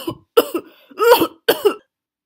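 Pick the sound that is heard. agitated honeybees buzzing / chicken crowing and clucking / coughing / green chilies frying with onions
coughing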